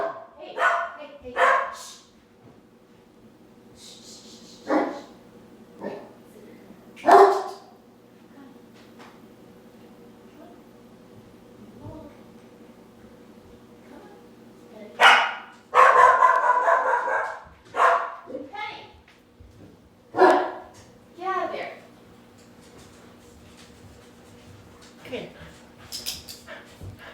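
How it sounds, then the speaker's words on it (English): Dogs bark in short, loud bursts at a townhouse late at night, reacting to people shoveling the sidewalk outside; sharp yips and a whimper come in scattered clusters with quiet gaps, and a person talks between them. "they are shoveling the sidewalk at my townhouse, and so my dogs are going to bark at them"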